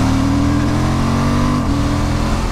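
Suzuki V-Strom 1050DE motorcycle engine pulling hard under acceleration on a ride, a loud, steady near revving drone with a smooth rising tone and no talk.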